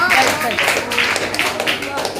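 A school audience at an Eid-e-milad celebration at an Urdu high school claps to welcome a fifth-standard student, a steady patter of many hands under a speaking voice.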